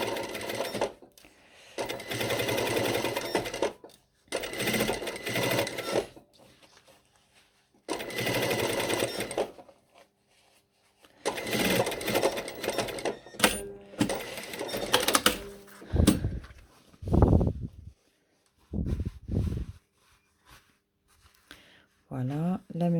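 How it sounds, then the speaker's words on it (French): Domestic sewing machine stitching a seam on a pair of shorts with a zippered fly, running in several bursts of a few seconds each, close and clear, with someone talking quietly between runs. "Et on va faire notre petite piqûre."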